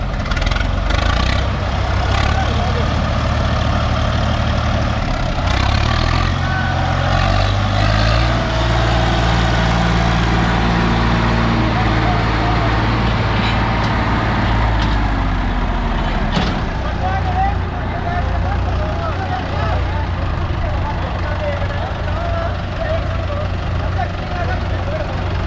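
A Mahindra 585 DI and a Swaraj 855 FE tractor locked in a tug-of-war contest, their diesel engines droning and revving loudly throughout, while people shout and talk over the engine noise.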